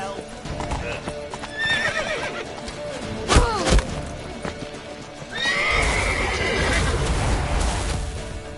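In The Witcher 3, a horse's hooves clop along while it neighs sharply mid-gallop, followed by a thud and a second whinnying outburst over ongoing hoofbeats and battle commotion.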